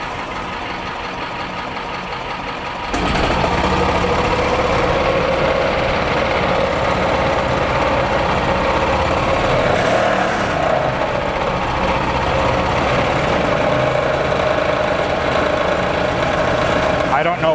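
A 2001 Yamaha G16 gas golf cart engine catches after a quieter stretch and runs steadily at a rough, busy idle, close by and continuous, with a voice talking over it.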